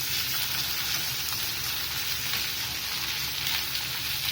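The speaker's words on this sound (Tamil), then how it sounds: "இப்போது எல்லாத்தையும் சேர்த்து நல்லா வதக்கிக்கலாம்." Garlic and curry leaves sautéing in hot oil for Tamil garlic kuzhambu, a dense, steady, loud sizzle crackling without pause throughout, with no voices.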